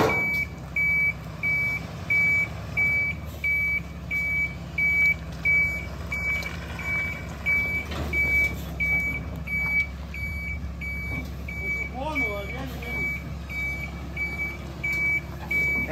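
A truck working near an excavator on a hillside site, with a steady rhythmic reversing beep repeating throughout over a low engine rumble, moderately distant, no talk.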